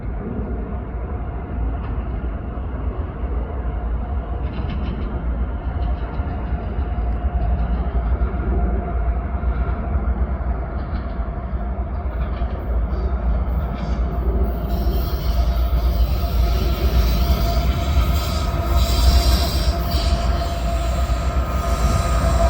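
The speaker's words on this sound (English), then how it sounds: "my shot of 8102 leading intermodal train 28M eastbound through Rochester" Norfolk Southern heritage locomotive 8102 leads eastbound intermodal freight 28M through Rochester, a steady loud rumble of rolling railcars and wheels with faint squeals, building slightly toward the end.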